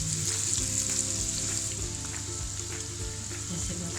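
Egg-coated potato fries sizzle steadily in hot oil as a home cook makes crispy egg fries, a continuous loud crackle with occasional spoon stirs, no talking.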